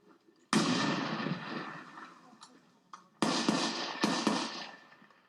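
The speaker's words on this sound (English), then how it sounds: "He's about to throw a grenade" Grenade blasts during live-fire military training, two sharp booms with a third close behind, each followed by a rumbling decay at moderate distance.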